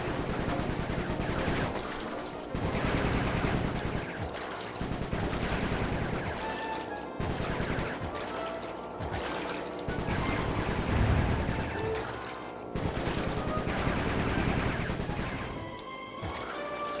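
Rapid bursts of gunfire in the Sly 3 video game, the Venice heist, dense and loud over a busy game score, with crashes breaking in at intervals.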